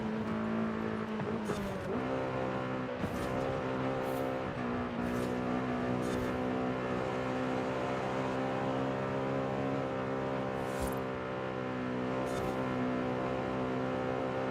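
A Honda S2000 engine in a racing video game drones and climbs through the revs with a steady harmonic tone, punctuated by brief clicks and shift breaks, heard alone with no voices.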